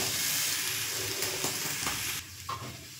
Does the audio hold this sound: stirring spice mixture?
yes